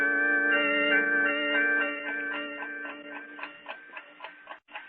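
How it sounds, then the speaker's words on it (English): A clock ticking on a dresser as a radio drama effect: a steady, close, rhythmic ticking with a ringing tone that thins out into sharper separate ticks and stops near the end. "the only sound I heard was the ticking of the clock on my dresser"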